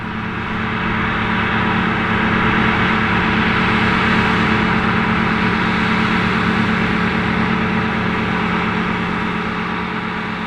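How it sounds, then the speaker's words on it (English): An Oliver 2255 tractor with a Caterpillar V8 engine runs steadily at a loud, constant drone, close by and uninterrupted, with no voices. "This Oliver 2255, powered by a Caterpillar V8 engine, was plowing ground"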